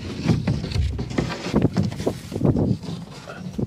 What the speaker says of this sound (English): The wind is catching it big time.